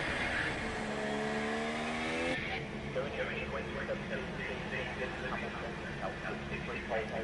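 Formula 1 race car engine in a racing video game, a high whining drone climbing in pitch through several upshifts as the car accelerates on a lap, then a rougher engine note, with a commentator talking over it.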